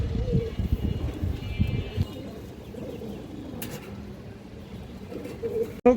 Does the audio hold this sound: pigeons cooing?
yes